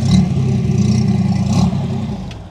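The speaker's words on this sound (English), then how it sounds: "Okay, Bill, rev the engine." A Chevy Corvair Monza's engine revs up close, a loud throaty rise and fall with mechanical clatter that eases off toward the end.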